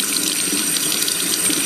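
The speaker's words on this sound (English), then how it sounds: "just get some hot water and run it through there until the water starts coming out." Hot water pouring steadily through a blocked ice maker line on a Frigidaire Gallery refrigerator, a continuous close hiss and splash of running water with no voices.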